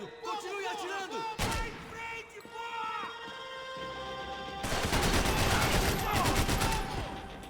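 Assault rifle fire in the video game Max Payne 3 rings out in repeated bursts of loud, sharp shots that grow denser toward the end, with someone talking over parts of it.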